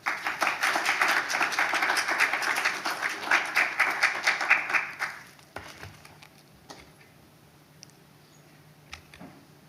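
Warm audience applause fills a presentation hall for several seconds, steady and moderately loud, then fades into scattered claps and quiet room noise.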